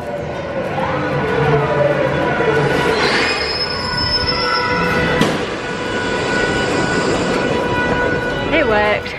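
Naples metro train ride, wheels squealing sharply on the rails with high screeching tones over a steady rumbling roll, close and loud inside the carriage, with voices faintly in the background.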